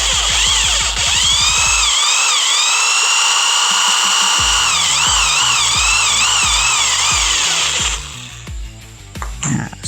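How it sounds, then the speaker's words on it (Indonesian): A power drill with a 10 mm bit enlarges the bore of a lower handle for an ultralight spinning fishing rod. Its high motor whine rises and dips under load for several seconds, then the sound gives way to scattered clicks. "Saya akan perbesar dengan bor ukuran 10 mili lagi."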